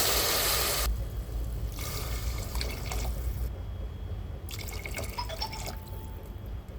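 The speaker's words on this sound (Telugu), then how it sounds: "2 గ్లాసుల బియ్యానికి 4 గ్లాసుల వాటర్ అయితే పోస్తున్నాను." Four glasses of water are poured into a pot of vegetables and rice, heard as a loud close splash followed by a few more gushing, trickling pours in separate bursts.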